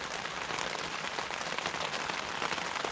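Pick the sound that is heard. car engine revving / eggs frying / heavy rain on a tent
heavy rain on a tent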